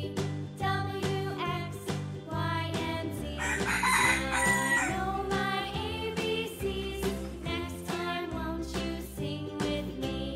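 A chicken crows and clucks over bouncy background music, the bird call rising in the middle before the tune carries on.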